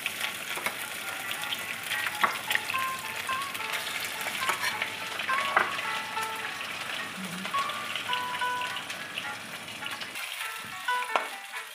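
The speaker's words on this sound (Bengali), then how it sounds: "এবার এই চিকেনগুলো এটার মধ্যে, তেলটার মধ্যে বেশ ভালো করে ভাজা ভাজা করতে হবে।" Marinated chicken fries over high flame in hot oil for chilli chicken, a steady close sizzle with occasional scraping and stirring clicks throughout, no talking.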